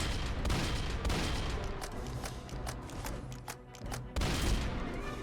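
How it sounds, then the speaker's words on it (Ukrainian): Rapid rifle shots crack in quick bursts in the Roblox game Dead Rails over a dense background of game effects and rumble, loud and close, with short pauses between volleys. "Так, від винтовки буду стріляти."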